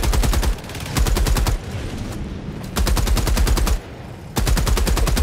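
Rapid bursts of automatic turret fire in the video game Helldivers 2 ring out loud and close, three long sustained volleys separated by brief pauses, with no talking.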